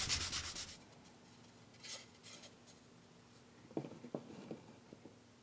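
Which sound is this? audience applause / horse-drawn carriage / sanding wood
sanding wood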